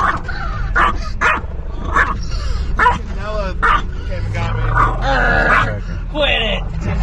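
A dog barks and yips repeatedly in short irregular bursts close by on a street, with a voice talking between the barks and a low car rumble underneath.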